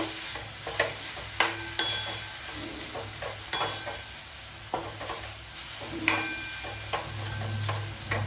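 Chicken pieces sizzle and fry in a spice masala while a utensil stirs them, with steady crackling and intermittent scraping clicks, close and fairly quiet.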